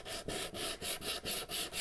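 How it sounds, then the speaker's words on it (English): Wood on a cutting-board toolbox project is sanded with a Velcro-pad sander in about seven quick, even back-and-forth strokes, a close rhythmic scratchy rasp with no talking. "So I was sanding with Velcro."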